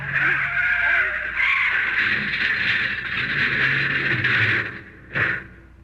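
Car tires skid and squeal in an old-time radio drama as a tire is shot out during a chase, a sustained loud screech running several seconds, then a short sharp burst near the end.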